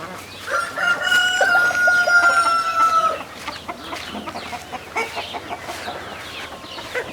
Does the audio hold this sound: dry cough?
no